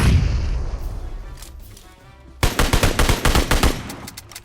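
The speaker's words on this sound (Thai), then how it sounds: "อุ้ยระเบิดว่ะ" A deep muffled boom of a grenade exploding in PUBG Mobile fades out, then a rapid burst of sharp gunfire-like cracks rattles in quick succession.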